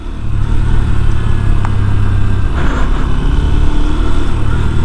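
A Honda Hornet 2.0 motorcycle engine runs steadily and loudly throughout while riding uphill on a hill track, a continuous low rumble with slight variation as it labors along.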